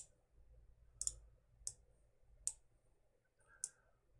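A computer mouse clicks in the Euro Truck Simulator 2 map editor, with four crisp, separate clicks spaced about a second apart over a quiet background.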